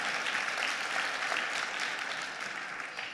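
Audience applause in a large conference hall during a plenary session, a dense, even wash of many hands clapping for a few seconds at steady loudness, no voices.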